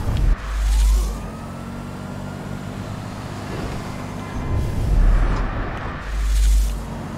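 Police car sirens in the video game GTA 5, a wailing tone rising and falling over rumbling car engines and traffic, swelling louder at moments with bursts of low thumping.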